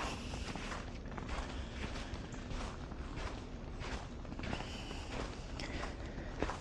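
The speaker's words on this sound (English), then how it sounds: "And you can just listen a little bit to the snow." Footsteps crunch through snow in a steady walking rhythm, each step a soft, close, crisp crunch repeating about every half second against quiet outdoor air, with no voices.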